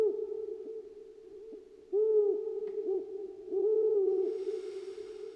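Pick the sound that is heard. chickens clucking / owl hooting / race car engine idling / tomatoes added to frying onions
owl hooting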